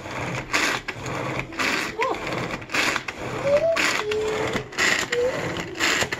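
Power Chef pull-cord chopper cutting onion, a series of quick rhythmic whirring bursts from repeated pulls, close and fairly quiet, with brief squeaky spinning tones between them.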